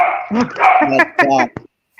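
A dog barks in a quick series of sharp yips, several barks in under two seconds, close and fairly loud, mixed with a person talking.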